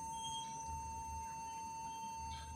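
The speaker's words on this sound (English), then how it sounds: "Continuous beep sound with black screen." An HP laptop with a black screen emits a continuous, steady high-pitched electronic beep that holds unbroken for the whole stretch, with no talking.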